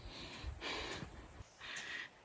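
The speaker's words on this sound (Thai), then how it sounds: "คือเสียงหอบดิฉันเอง" Heavy breathing of a person panting while hiking a forest trail through bamboo and large trees, three loud breathy bursts in a steady rhythm, close to the microphone with no talking.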